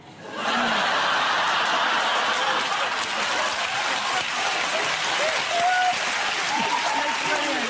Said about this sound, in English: Why are we clapping for that?